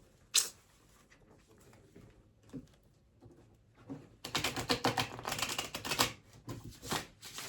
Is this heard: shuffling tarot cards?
yes